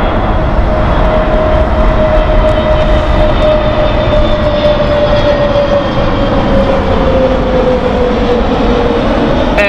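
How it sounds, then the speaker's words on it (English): An Airbus A321neo's engines roar steadily and loudly at Heathrow Airport, a continuous broadband rumble with a sustained whine running through it and no voices. "Portugal here with our Airbus A321neo"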